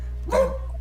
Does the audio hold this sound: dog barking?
yes